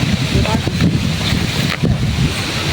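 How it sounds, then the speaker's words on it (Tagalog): Steady, gusty wind roars across the microphone, a dense low rumble with surges, and faint voices are mixed in underneath. "Malakas din ang hangin dito, malamig."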